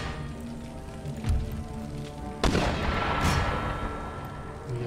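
Artillery fire in Empire Total War, with heavy booms landing among a low, rumbling battle din and crackling debris, two strong blasts standing out close together.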